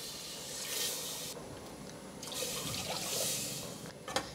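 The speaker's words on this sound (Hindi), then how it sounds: "तो यहाँ पर मैं 2 गिलास पानी डाल रही हूँ।" Water poured over mutton in a pressure cooker, a steady splashing trickle with brief pauses between pours, close by and without talk.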